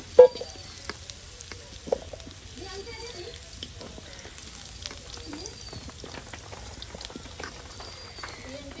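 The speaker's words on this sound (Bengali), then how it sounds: "এই যে আপনার তেজপাতাগুলো কিন্তু তেলে দিয়ে দেওয়া হলো" Bay leaves frying in hot oil for a duck curry, a soft crackling sizzle with faint stirring clatter and a couple of sharp knocks, quiet and close.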